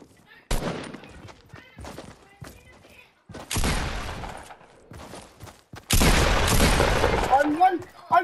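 Gunfire in a Fortnite match: short sharp bursts and sustained volleys of shots separated by quieter gaps, with players talking between them.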